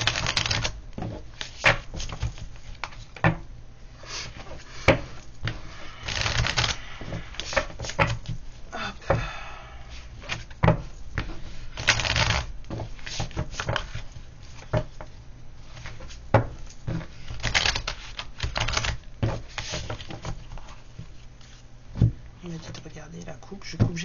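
Tarot cards being cut and handled, with repeated crisp slaps and riffling clicks of the deck in irregular bursts, heard close under someone talking in French.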